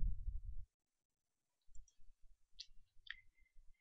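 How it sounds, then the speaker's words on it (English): A few light mouse clicks on a graph button in a clinical flow sheet, sharp and brief, sounding near and alone after a short low thump. "click the graph button"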